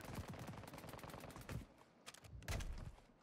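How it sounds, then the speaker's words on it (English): Warzone 2 video game gunfire, with rapid automatic bursts rattling fairly close, a short pause, then another sharp burst, and no talking over it. "I'm getting shot from my right."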